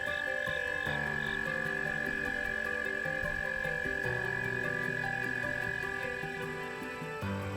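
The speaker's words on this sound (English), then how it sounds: "but also American toads" American toads call in a Nebraska river floodplain: long, sustained high trills overlap one another, fairly near and steady throughout, with no voices present.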